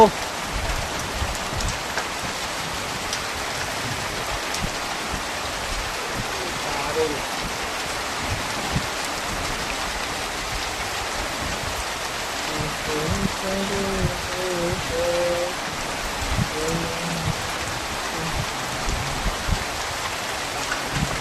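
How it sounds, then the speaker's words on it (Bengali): Heavy rain pours down outdoors with a dense, steady hiss of drops striking surfaces. Faint voices can be heard now and then beneath it. "দেখো কি প্রচুর বৃষ্টি পড়ছে।"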